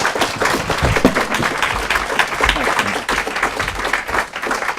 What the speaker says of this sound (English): Let's have another round of applause for our fantastic speaker, Larry Schweikart.